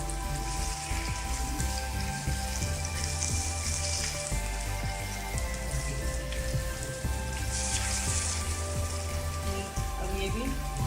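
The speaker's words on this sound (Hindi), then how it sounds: "अब ये भी हमारे 1-2 मिनट में फ्राई हो जाएंगे।" Shami kababs fry in a pan with a dense, continuous crackling sizzle like steady rain, loud and close throughout with faint background tones.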